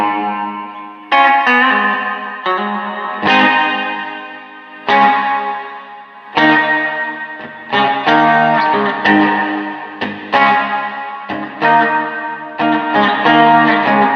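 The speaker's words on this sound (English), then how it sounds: "again, lots of reverb, just like the SuperBlock UK." Electric guitar played through a Quilter SuperBlock US amp with heavy reverb: ringing chords and phrases strike every second or two, each decaying into a long, washy tail, loud and alone.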